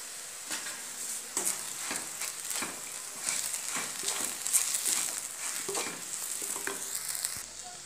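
Spice mixture of salt and red chilli stirred while frying in a pan for a rumble-tumble bread dish, with steady close sizzling and repeated scraping strokes of a spoon through the whole stretch.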